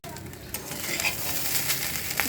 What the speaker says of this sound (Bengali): আমার ভাত ভাজাটা হয়ে গেছে